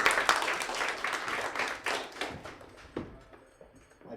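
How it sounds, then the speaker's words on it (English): A small audience claps for a speaker at a tech event, scattered distinct hand claps that thin out and fade into a few isolated claps near the end. "So big round of applause."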